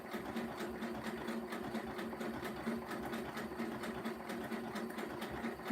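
A sewing machine stitches a rope basket with a steady, fast mechanical chatter of needle strokes, close and fairly quiet, running evenly throughout with no talking.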